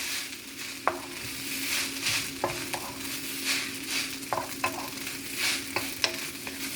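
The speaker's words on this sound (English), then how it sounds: "I'm going to be adding the rest of my noodles. I'm going to give that a stir." Soy sauce shrimp fried noodles stirred in a hot pan, a steady sizzle broken by scattered scrapes and clicks of the utensil, close and moderately loud with no talking.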